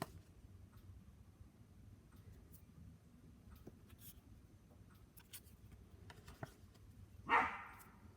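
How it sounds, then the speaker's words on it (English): Dogs bark faintly in the background against a low hum, with scattered soft yips and one sharper, louder bark near the end. "Oh, those dogs, they just can't"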